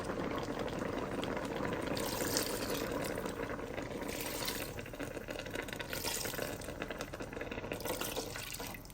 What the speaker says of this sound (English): I'll be adding in water